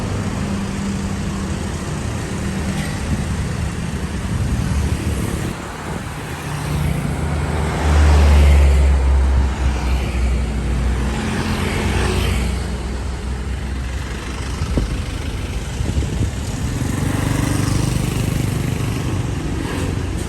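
A Toyota Kijang car driving along a road on the way to a workshop, steady engine drone and road noise from inside the vehicle with passing traffic and a brief louder low rumble midway.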